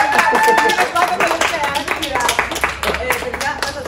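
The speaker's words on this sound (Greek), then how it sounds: "Κυρία Κουτόβα, ένα χειροκρότημα για την κυρία Κουτόβα." Audience clapping breaks out on a Greek comedy show backstage, loud and dense across the whole stretch with mixed voices and chatter running underneath.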